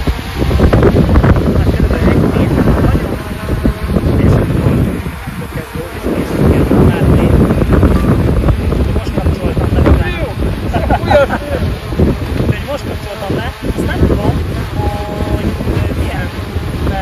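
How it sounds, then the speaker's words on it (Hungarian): Strong wind roars and buffets the microphone outdoors, probably at sea, as a small DJI Mini 3 Pro drone flies in gusty conditions; a loud, continuous low rumble with gusting surges, while a person talks over it. "És erős szél van."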